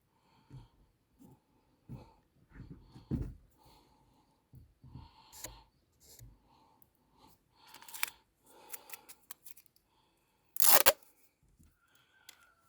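Sticky tape is pulled and handled in a string of crackling rips and rustles, with one loud tearing burst near the end, during repair of a Forte 12-litre cordless sprayer; no voices.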